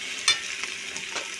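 Spices frying in a pan for a light fish curry, stirred with a utensil: a steady close sizzle with a sharp scrape near the start and a few softer stirring strokes after.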